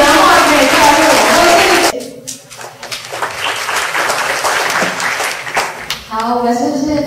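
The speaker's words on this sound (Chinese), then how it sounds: "我们是不是再次热烈掌声谢谢以上五位青年带来的精彩的 分享" An audience applauds at a youth working holiday information session in Taichung, loud sustained clapping with speech around it.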